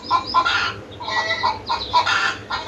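A hen clucking close by in a rural setting, a series of loud, repeated short clucks in quick bursts with no talk.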